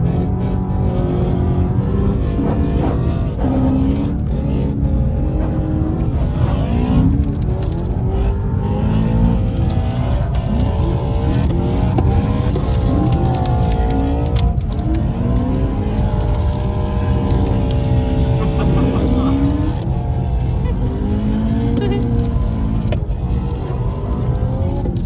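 Two BMW M3 E92 coupes driving and drifting on snowy arctic roads, a loud sustained engine roar rising and falling in pitch as they rev and accelerate, steady throughout with no speech.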